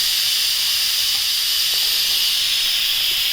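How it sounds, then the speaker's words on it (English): Steam hisses steadily and loudly from the vent of an Instant Pot pressure cooker being released after a pot roast, a continuous bright rushing spray with no break and no voices. "that'll take just a couple minutes to get all that steam out of there"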